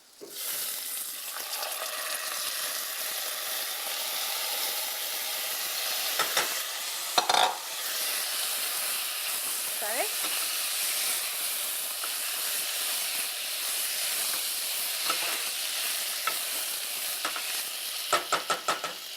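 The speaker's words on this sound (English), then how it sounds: "We'll add 1 tablespoon of oil, 2 cups of rice washed and dried" Washed, dried rice frying in a tablespoon of oil, a steady close sizzle and hiss with occasional scraping clicks of a spoon stirring through the grains, no talking.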